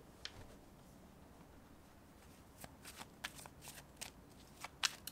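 Tarot cards are shuffled by hand, quiet papery riffles and soft flicks that grow busier toward the end, with no talking.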